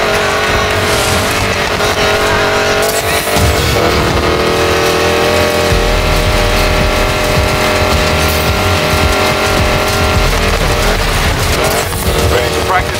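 Hypercar engine in the racing game Need for Speed Payback, a loud sustained roar with tire squeal and shifting revs across the whole stretch, and voices talking over it.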